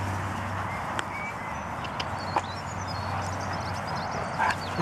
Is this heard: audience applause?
no